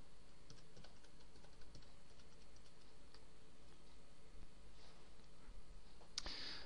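Password typed on a computer keyboard during a web hosting login: a steady run of light, close key clicks, fairly quiet, with no talking over it.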